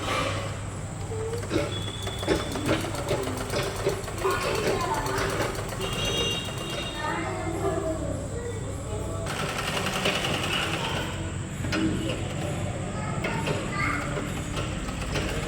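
A sewing machine runs steadily in a home setting, a continuous mechanical whir with a low hum, while people talk over it throughout.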